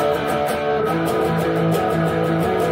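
An electric guitar plays a repeating chord riff with steady rhythm, sustained and fairly loud throughout, with no voices.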